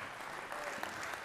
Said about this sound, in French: On vous applaudit, messieurs.